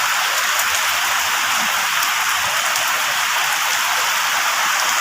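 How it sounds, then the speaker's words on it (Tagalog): Heavy rain pours steadily during a flood in Pampanga, a dense, loud, unbroken hiss of downpour drumming on surfaces with no voices. "medyo tumitila na yung ano, yung ulan"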